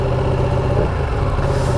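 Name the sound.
Ducati 959 Panigale motorcycle engine at low revs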